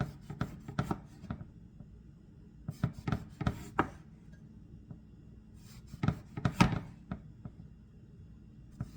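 A knife slices an eggplant into thick rounds for eggplant parmigiana, producing three clusters of crisp, close cutting thunks on a board, with brief quiet pauses between the bursts.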